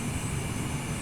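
Airplane landing at Anchorage airport on a cold afternoon: a steady, broad aircraft engine roar, moderately loud and continuous over a brief moment, with no voices.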